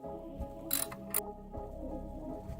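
Ratcheting wrench clicks while bolts are backed out of a Metro axle shaft seal housing, a close, quiet mechanical sequence with two sharp bursts of clicking among softer metallic turning.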